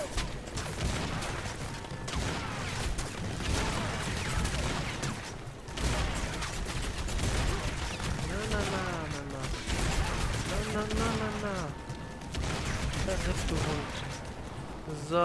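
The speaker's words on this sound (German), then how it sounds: "da knallt mich noch irgendwie jemand ab" Rapid gunfire bursts and explosions from the first-person shooter Crysis Warhead rattle continuously for about fifteen seconds, loud and dense, with game music and effects mixed in and someone talking over parts of it.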